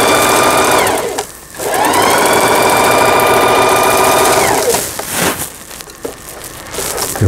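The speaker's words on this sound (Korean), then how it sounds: "예, 지금 정상 박음질이 되고 있습니다." A Singer Heavy Duty sewing machine runs zigzag stitching in a loud, steady mechanical whir, with a brief pause near the start and a stop near the end before shorter bursts of running.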